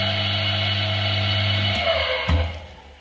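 A phase converter and power hammer in a workshop run with a steady electrical hum and whine, then the motor note drops and winds down with a brief mechanical clunk, close and without talk.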